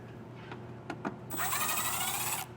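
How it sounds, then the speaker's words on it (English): A power driver with a T15 bit spins screws out of the bottom of a 2023 Buick rear fascia, a few short clicks followed by a steady, close whirring run of about a second. "we're going to take our T15 bit again and take two screws out of the bottom of our rear fascia"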